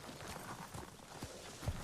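Horse hooves clip-clop in the video game Ghost of Tsushima, a faint, quiet run of soft, uneven hoofbeats lasting under two seconds.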